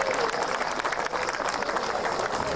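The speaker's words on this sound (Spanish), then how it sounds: "un aplauso para ella" Steady, dense applause from a concert audience fills the hall for the director of the Ronda la Encina choir at a choral performance honoring the Virgen del Mar.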